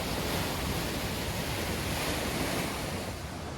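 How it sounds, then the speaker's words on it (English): River water from the James River rushes steadily through the Gallego Mill flume in Richmond, Virginia, a dense, loud, continuous roar close by with no pauses. "here's where the water comes in from the James River through this lock here, and it flows into the canal system"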